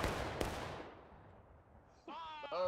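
Musket volley fired on command in the Civil War video game War of Rights, a sharp crackling blast that decays into a long rolling tail, followed by a faint voice-like cry near the end.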